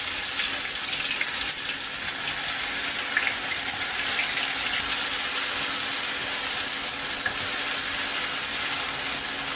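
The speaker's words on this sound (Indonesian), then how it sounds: "Kalau sudah panas, kita masukkan bumbunya." Spice paste sizzles and fries steadily in hot oil in a wok, a dense, even hiss that continues unbroken with no speech.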